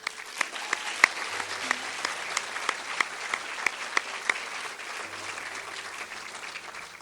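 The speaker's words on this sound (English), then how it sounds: "Give them a round of applause." A pageant audience applauds steadily throughout, a continuous wash of clapping with a few sharper individual claps standing out, moderately loud and with no talk over it.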